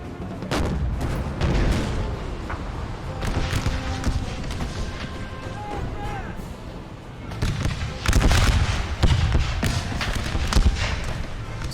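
Artillery fire and musket volleys in the Total War: American Civil War video game, a dense battlefield din of booms and crackling shots with a louder surge of firing toward the end, under a voice.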